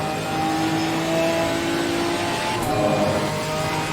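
Porsche race cars in Assetto Corsa Competizione at Silverstone give a steady, sustained engine drone with a faint whine, constant and moderately loud, with no talking.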